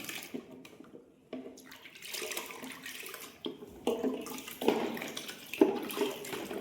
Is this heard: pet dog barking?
no